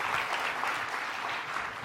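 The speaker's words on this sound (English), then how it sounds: "Little round of applause for this guy." Audience at a keynote talk giving a short burst of applause, dense and sustained clapping at fairly high level from start to finish, with no voices over it.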